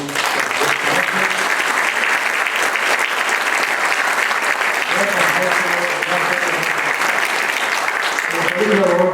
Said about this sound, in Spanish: Le vamos a renovar un fuerte y caluroso aplauso